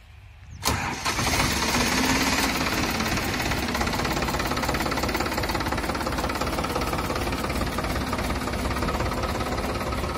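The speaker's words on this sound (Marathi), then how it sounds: "तर पहा आमच्या वहिनी आज ट्रॅक्टर चालणार आहे." A tractor engine cranks and catches near the start, then runs steadily and loudly at a knocking idle for the rest of the clip, with no talk over it.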